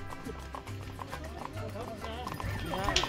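Horse hooves clip-clop steadily through a ride in snowy, cold Pahalgam, Kashmir, a repeated close rhythm running under continuous talk and background noise.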